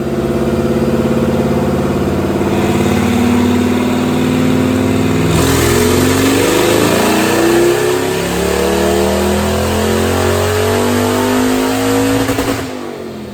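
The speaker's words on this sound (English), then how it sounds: "let's watch a dyno pull on this car" A 2005 Saleen Mustang's supercharged engine revs hard on a dyno pull, climbing steadily in pitch, drops briefly, then winds up again to a loud sustained roar before cutting off.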